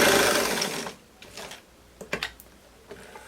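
A sewing machine runs a straight seam on a pair of wide-leg trousers, whirring steadily and close for about a second, then stopping, followed by a few faint mechanical clicks.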